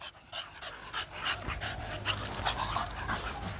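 An American Bully dog pants in quick, rhythmic breaths close to the microphone. Faint breathy whimpers mix into the steady huffing.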